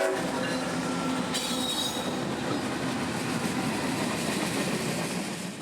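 A coal and autorack freight train rolls past on the S Line near Orlando, Florida, with a loud continuous roar and shrill wheel squeal rising over the rumble.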